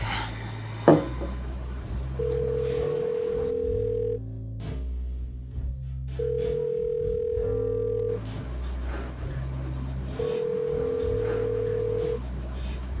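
Repeating phone ringback tone during an outgoing call, steady electronic beeps in regular on-off cycles with a low background hum, no talk.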